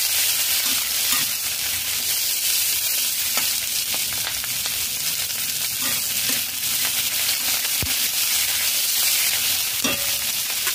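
Medium-size capsicum, cut into four pieces, sizzles in a pan with onions that have fried on a medium flame. A steady hiss runs throughout, with occasional scrapes and clicks of stirring.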